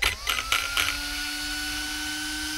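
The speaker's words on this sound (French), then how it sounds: "il y a tout qui souffle, le ventilo là ça souffle, celui-là ça souffle" Cooling fans on a Hobao Hyper SSTe RC buggy, mounted on a radiator heatsink, blow with a steady whirring hum after a few brief clicks and whirs at the start.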